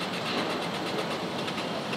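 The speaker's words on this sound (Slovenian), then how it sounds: "Avto v celoti sestavljen in ga čaka prvi vžig motorja, da vidijo, če vse je v redu." A newly assembled six-cylinder petrol car engine, fuelled with a few litres of gasoline, runs at a steady idle on a Slovenian car factory floor, giving a continuous, moderately loud hissing churn.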